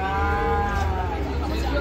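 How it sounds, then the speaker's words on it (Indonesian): Giant cattle lowing after being unloaded from a truck, a sustained deep moo with rich harmonics that holds steadily at close range over low background rumble, with no speech. "Kedatangan lagi sapi raksasa guys, banyak sekali nih hari ini"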